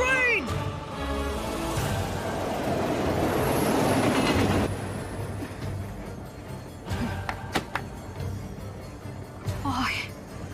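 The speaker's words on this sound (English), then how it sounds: "It's coming, man! The other train!" An anime train roars along on its tracks, loud and close, with rumbling wheels building over several seconds and then dropping away, followed by sharp metallic clacks and a brief squeal.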